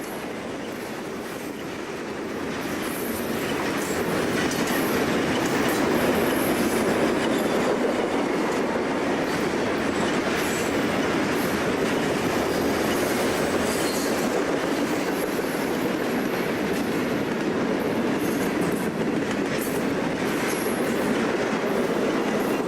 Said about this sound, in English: they probably run the heaviest and longest manifest trains of any railroad in this country